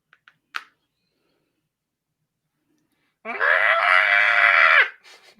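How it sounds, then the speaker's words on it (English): A long, loud, strained scream from the Batman v Superman film bursts out after a near-silent stretch, holding steady for about one and a half seconds before cutting off, preceded by a few faint clicks. "That's the scream."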